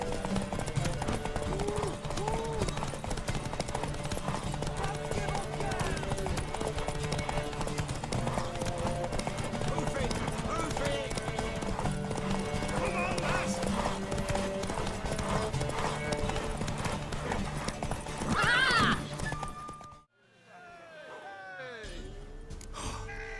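Horse hooves clip-clop steadily in The Witcher 3 game, with a mare neighing and snorting near the end amid dense in-game sound, then a brief quiet gap before more horse noise returns.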